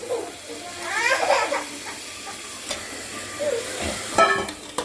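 Mutton pieces sautéing in a pan with curry leaves for mutton kulambu, soft sizzling and stirring scrapes coming in bursts, fairly quiet and close.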